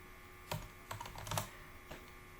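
A few quiet keystrokes on a computer keyboard while entering a Cisco router command, a short uneven cluster of clicks over a faint steady background hum.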